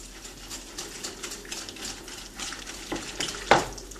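Sugar is stirred by hand into tiramisu cream in a bowl, making a continuous soft scraping and swishing rhythm, close by, with one sharper knock near the end.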